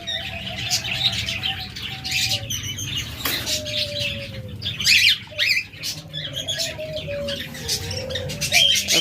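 Lovebirds and budgerigars kept for sale chatter and squawk continuously, with overlapping chirps, calls and occasional wing flaps from a crowded group of birds nearby.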